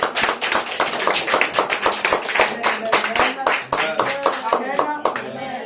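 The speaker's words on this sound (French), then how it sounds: "On acclame notre Seigneur." A church congregation applauding to acclaim the Lord, dense rapid clapping from many hands that stays loud and sustained, with voices mixed in underneath.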